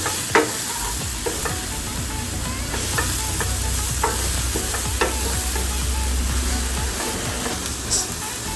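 Fish green masala, with coriander and grated coconut just added, sizzles loudly in a pan as it is stirred, with periodic scraping knocks over a thick continuous fry hiss and a low rumbling hum, close and without speech.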